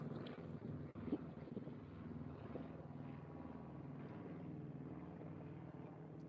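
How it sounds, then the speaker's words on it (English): An aircraft passes overhead outdoors beside a vegetable garden, a steady low droning rumble with wind buffeting that holds constant throughout, with no talking. "Let this aircraft go."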